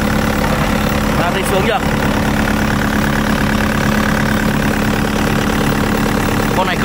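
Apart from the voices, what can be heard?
Hitachi ZX55UR-3 excavator engine idling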